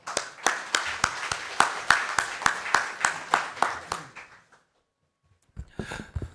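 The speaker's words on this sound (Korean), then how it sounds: "큰 박수로 모시겠습니다" Sharp, evenly spaced claps at a policy seminar ring out close by for about four seconds and then stop, followed by a brief burst of noise.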